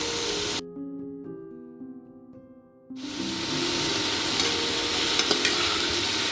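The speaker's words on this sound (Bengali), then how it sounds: "এবার চিচিঙ্গাটার সাথে নুনটা দিয়ে ভালো করে আমি ভেজে নেব।" Snake gourd frying in hot oil with salt, a loud dense sizzle and hiss that drops out briefly for a tonal interruption, then returns strong and steady, close up.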